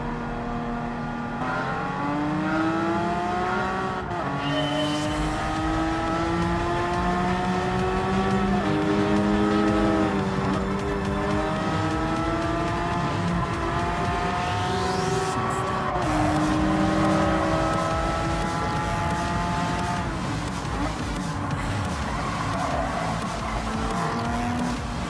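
A Porsche Cayman racing in Gran Turismo 7, its engine revving steadily through rising gear pulls and brief shifts, loud and continuous, with occasional tire squeal.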